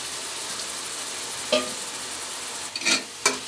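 Vegetables such as carrot and tomato sizzling in a pan under a steady frying hiss, with a few brief scraping stirs of a spoon near the end.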